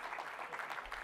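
Applause from an audience at an awards ceremony, a brief, faint burst of steady clapping.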